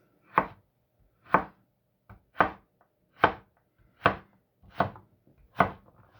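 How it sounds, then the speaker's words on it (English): A knife chops potatoes into fry-shaped pieces on a board, seven crisp, evenly spaced thuds about a second apart, close and clear with silence between them. "Cut them into these pieces here, like fries."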